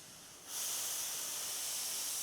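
A paint spray gun suddenly releases a steady, loud rush of air, a bright continuous hiss that starts after a short quiet moment and holds evenly, heard close with no voices.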